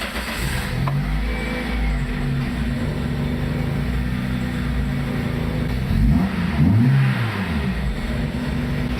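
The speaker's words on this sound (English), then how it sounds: "we're going to start the car now and see if there's any change in the idle." A Toyota Matrix XRS engine idles roughly after a MAF sensor replacement. The low, steady engine drone is close and loud throughout, with a brief rise and wobble in pitch near the end.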